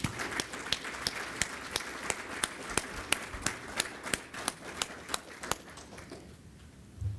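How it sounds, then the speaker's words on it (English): Audience applause at an Air Force retirement ceremony for a senior master sergeant, fairly faint clapping with a few sharp, distinct claps standing out in a regular rhythm before tapering off. "give every one of you guys a round of applause yourself"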